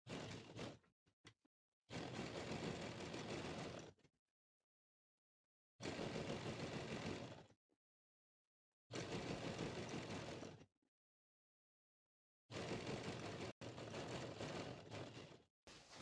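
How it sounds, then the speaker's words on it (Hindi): A sewing machine stitches a trouser seam in four bursts of rapid, even needle chatter, each about two seconds long, separated by silent pauses, close and moderately loud. "यहाँ से पक्का करके हमने सिलाई स्टार्ट करनी है।"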